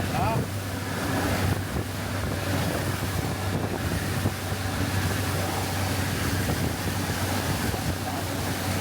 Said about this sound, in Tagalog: Where them waves coming from, like?